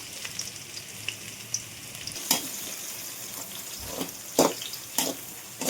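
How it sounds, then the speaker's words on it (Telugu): Chopped garlic and green chillies fry in hot oil for street-style paneer fried rice, giving a steady soft sizzle with a few sharp spatula scrapes and clicks against the pan, and no voices. "చూడండి ఫ్రెండ్స్, వెల్లుల్లి పచ్చిమిర్చి బాగా వేగాయి"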